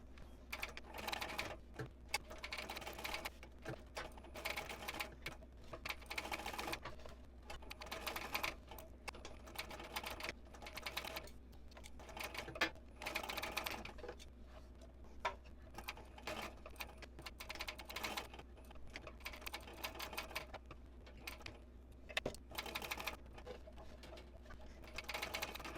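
A sewing machine at a 5 stitch length stitches handbag strap connectors in a batch, its fast needle chatter running steadily at close range with brief pauses between pieces, with no talking.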